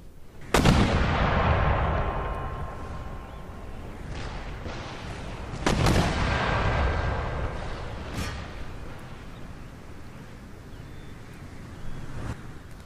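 Artillery and mortar fire booms in the video game Empire Total War, with three or four sharp, heavy blasts, each followed by a long rumbling tail over a steady wash of battlefield noise.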